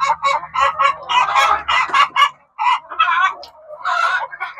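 Free-range country chickens, Kadaknath among them, cluck and call loudly and close by in busy overlapping bursts, with a low background hum early on.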